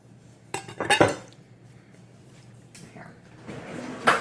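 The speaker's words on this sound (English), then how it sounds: "I'm just going to use my knife here and roughly chop it" A knife roughly chopping something into small chocolate-chip-size pieces on a board for pumpkin crunch cookies, a few sharp clattering knocks and clinks in short bursts separated by quiet stretches, with no talk.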